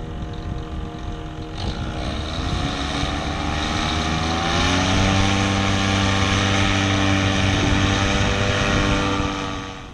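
A paramotor engine and propeller at Boquerón run up to full throttle, a loud, close droning whine that rises steadily in pitch and then holds steady before easing at the end.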